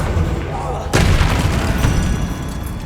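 A Confringo fire spell bursting in the Hogwarts Legacy game, a sudden deep boom that lands about a second in and rumbles on through a dark tomb-like setting, with a voice nearby.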